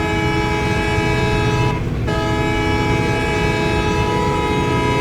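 A train in a video game rumbles steadily past with a sustained droning tone, loud and continuous, a brief dip in the noise partway through.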